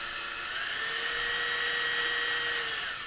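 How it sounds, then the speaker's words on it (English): A small drill bores into a plastic Warhammer 40k Custodes Vertus Praetor jet bike model to seat a magnet, giving a steady, close, high-pitched whine that holds evenly for about three seconds with no talking. "hold it at an exact 90-degree angle and then drill straight in so that the magnet is sitting correctly"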